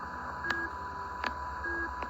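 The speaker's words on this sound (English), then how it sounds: "instead of buzz, you are having this like pip sound" Pip signal from a Russian shortwave radio station, short faint tonal beeps repeating at regular intervals of under a second over a steady static hiss and hum.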